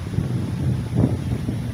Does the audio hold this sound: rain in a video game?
no